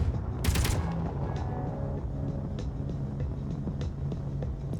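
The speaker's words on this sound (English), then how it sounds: "I feel like the range on the Gatlings have gone better." Gatling guns firing in the Space Engineers video game, a sharp burst of rapid shots followed by scattered fainter pops over a low engine hum, with no voices.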